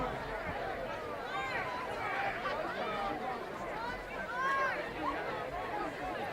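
Unhappy football fans at a senior night high school game between West Milford and Sparta voice displeasure, a broad murmur of crowd chatter with scattered shouts and calls rising above it, heard from within the stands.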